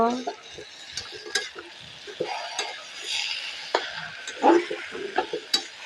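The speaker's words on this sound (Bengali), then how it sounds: "সব একসঙ্গে ভালো করে মিশিয়ে নেব।" Taro greens and fried shrimp are stirred together in a frying pan, giving a steady sizzle broken by scraping and light clinks from the spatula against the pan. No voices are heard.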